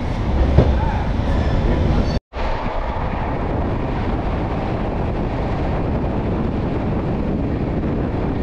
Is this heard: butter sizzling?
no